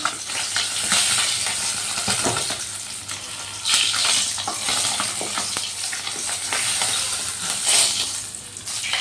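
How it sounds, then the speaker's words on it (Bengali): Pabda fish frying in hot oil, a close, loud crackling sizzle with bursts of spattering and stirring, no talk. "সব মাছগুলো তুলে নিয়ে বাকি মাছগুলো ভেজে নেব"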